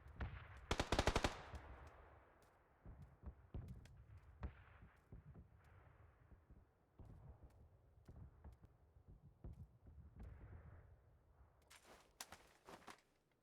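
Gunfire in the battle game PUBG: a dense burst of automatic shots early on, followed by scattered single cracks and short volleys spread across the clip, mostly fairly distant and of moderate loudness.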